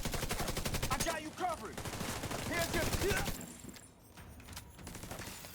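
Rapid turret gunfire in a video game, fast repeating shots in bursts, loud and close, pausing briefly before resuming, with a voice talking underneath.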